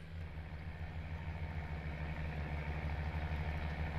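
A tractor engine in Farming Simulator 19 labours under a heavy load, giving a steady, continuous low rumble with a slight pulsing throb and no voices over it.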